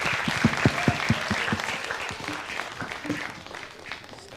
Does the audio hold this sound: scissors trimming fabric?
no